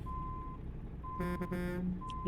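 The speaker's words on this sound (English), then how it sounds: "all I hear is beep, beep, beep" A truck in American Truck Simulator gives a reversing beep, a thin steady tone sounding in short repeated pulses, faint and close, over a low engine rumble with a couple of brief clicks.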